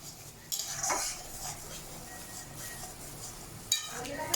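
Spoon scraping and stirring tomato paste into a masala in a pan, soft scrapes and a couple of metallic clinks against the pan, close and moderately quiet, no talk.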